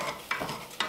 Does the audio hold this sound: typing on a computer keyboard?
no